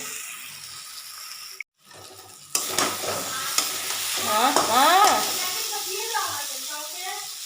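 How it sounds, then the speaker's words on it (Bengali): Egg curry being stir-fried in a pan for a thin gravy: after a brief drop to near silence, a loud close sizzle breaks out with scraping stirs. A muffled voice can be heard underneath. "তো দেখো বন্ধুরা আমার ডিমের ঝোল কষানো হচ্ছে"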